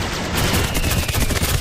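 Gunfire in the party video game Dragon Lair Sprite Fantasia, a dense, continuous burst of rapid shots with no clear gaps, held at steady loudness throughout the short stretch.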